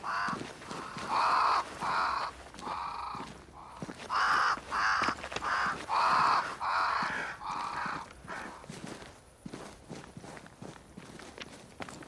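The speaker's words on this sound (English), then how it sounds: "Crows. They flock to that great tree up there." Crows caw repeatedly in a video game, harsh calls arriving in bursts across the clip with a faint background of game ambience and footfalls.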